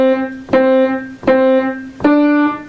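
Four notes played one after another on a piano, with the fourth a step higher than the first three, each a clean struck attack followed by a ringing decay at an even, moderate pace.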